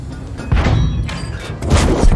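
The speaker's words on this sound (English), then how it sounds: "I move forward on him, firing at him as I do, and, doing damage to him." A tank in World of Tanks fires its cannon. Several heavy booms and thuds land close together over low rumbling game noise.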